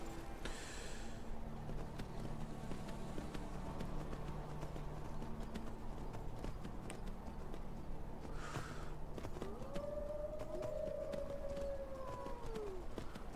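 Horse hooves clip-clop in the video game Skyrim, a soft steady patter of footfalls under low background music, with a brief creature cry rising near the end; fairly faint overall.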